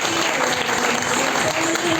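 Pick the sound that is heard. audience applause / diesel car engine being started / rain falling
audience applause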